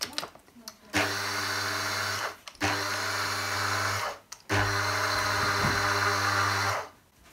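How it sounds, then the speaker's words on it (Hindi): A kitchen mixer grinder whirs loudly in three steady bursts, separated by short pauses, as it pulverises sugar into powder. "मैं इसको इस तरह मिक्सी में डाल लूँगी और इसको मैं 1 मिनट के लिए चलाऊँगी"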